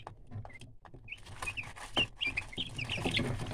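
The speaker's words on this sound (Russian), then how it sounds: "Очень шумные, постоянно щебечут на своем цыплячьем языке" Ten-day-old broiler chicks chirp and cheep in a steady, busy chorus of overlapping high calls, close by and fairly loud, with no talking.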